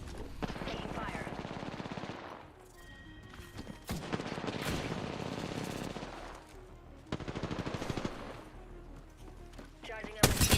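Loud video game gunfire, with rapid automatic bursts separated by short pauses and a sharp cluster of shots at the end, with voices mixed in.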